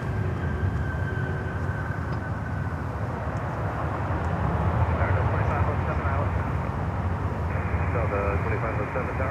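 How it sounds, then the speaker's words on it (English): An Emirates Boeing 777-300 airliner approaches a runway at Miami airport, its broad steady jet roar filling the scene loud and continuous, with a whining engine tone shifting partway through. "I think Emirates is coming over to runway 12, to runway 9."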